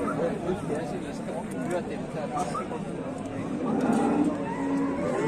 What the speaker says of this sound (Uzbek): navbatdagi sigirimiz Jersey